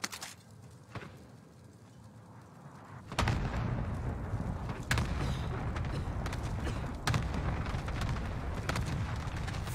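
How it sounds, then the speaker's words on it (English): Airstrike explosions in a video game boom out as a series of sharp blasts, one early and several more after the rumbling mix swells louder at about three seconds, over a continuous low roar. "He's already scored an airstrike in there."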